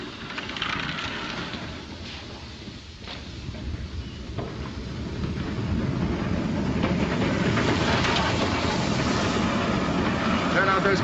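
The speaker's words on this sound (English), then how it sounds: "Train's coming in." A train pulls into a station in a 1940s wartime setting, a steady rumbling roll with faint hiss and clatter that swells louder toward the end, with voices talking over it.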